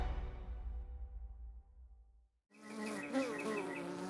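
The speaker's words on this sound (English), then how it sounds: "I know there's a lot of bees around here" Bees buzz outdoors, first as a low droning hum that fades out, then after a brief lull a closer, louder buzzing with wavering pitch as insects fly around nearby.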